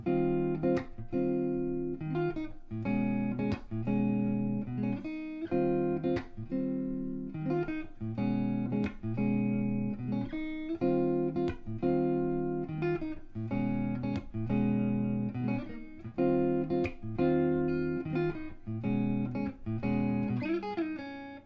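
A repeating guitar groove from a song played alone, with steady rhythmic strummed chords and short accented hits, clear and close throughout.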